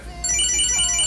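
A small electronic tracker starts beeping, a high, bright repeating ringtone-like chirp that begins abruptly and continues steadily.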